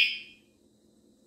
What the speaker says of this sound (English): But there is the actual alarm.